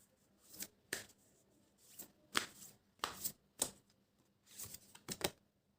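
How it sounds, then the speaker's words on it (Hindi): A deck of tarot cards being shuffled close up, in quick repeated riffling bursts with short pauses between them, and no talking. "मैं एक बार ये कार्ड्स आपके लिए शफल कर लो"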